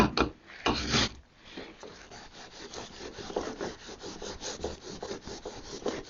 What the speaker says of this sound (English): I feel like I haven't waxed anything in a while.